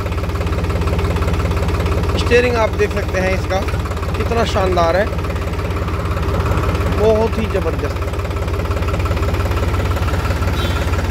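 A New Holland tractor idles at low rpm with a steady, smooth engine hum running throughout, close and constant, while someone talks over it.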